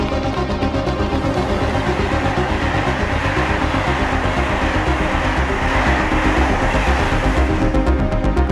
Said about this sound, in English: Il y a un train qui va partir, là.